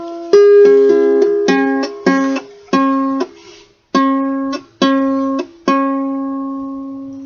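Downstrokes strummed on an acoustic guitar, one chord per beat in a slow, even rhythm, each ringing out loud and close before the next strum.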